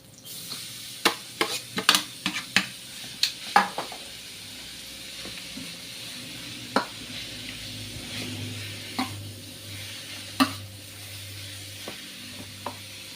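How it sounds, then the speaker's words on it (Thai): Papaya stir-fried with garlic in a pan: a constant low sizzle broken by sharp clacks and scrapes of a spatula, busy in the first few seconds then sparser, close up with no talk. "เมื่อเราผัดกระเทียมเริ่มหอมแล้วเนาะเราก็จะใส่ มะละกอครับ"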